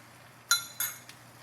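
Broccoli and sauce are tipped into a dish with two quick, light clinks against the container, then a faint third tap in an otherwise quiet room.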